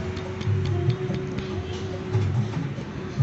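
A Yamaha Vixion motorcycle engine with a worn connecting rod idles close by with a rapid, regular metallic ticking knock repeating under the running hum.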